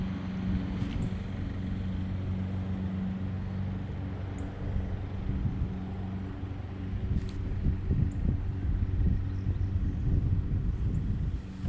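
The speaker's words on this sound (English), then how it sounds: "and then this wind comes" Wind gusting across open water while bass fishing in Florida, a continuous low rumbling buffet that swells louder toward the end, with no voices.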